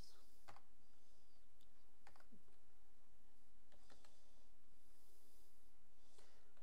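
Computer keyboard keys pressed for shortcuts in Microsoft Word 2007: a few sparse, faint clicks sound over a steady background hiss, with no talk.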